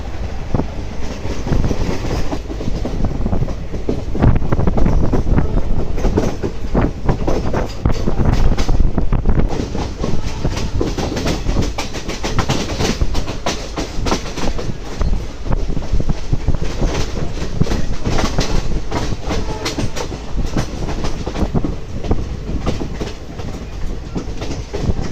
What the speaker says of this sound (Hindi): Train is arriving at Rampur Junction railway station.